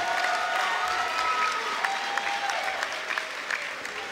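Audience at a QuakeCon 2014 CTF showmatch cheering and applauding, a dense, loud wash of clapping with scattered whoops that slowly eases off, with some voices mixed in.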